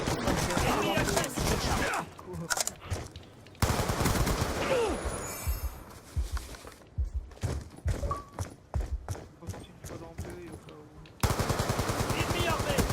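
Rapid video game gunfire in a capture-the-flag match, with machine-gun bursts and single shots coming in uneven clusters and short pauses between them, and voices heard in the mix.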